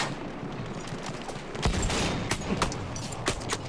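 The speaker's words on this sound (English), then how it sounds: "Wait, I got dibs on this artillery." Artillery cannon fire in the Battlefield 1 video game, a dense rumble of booms and blasts building midway and continuing with sharp reports, no voices.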